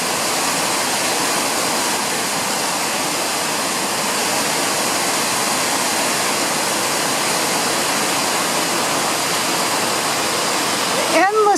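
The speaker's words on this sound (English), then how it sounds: "Endless waterfalls." Waterfall near the trail to Sperry Glacier, a steady, loud, broadband rush of falling water that fills the whole clip without pause.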